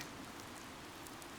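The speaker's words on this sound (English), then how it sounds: "Oddly, the rain has come to fall yet again." Rain falls in a Fire Emblem Three Houses battle scene on the Tailtean Plains, a soft, steady hiss of downpour at low volume with no voices.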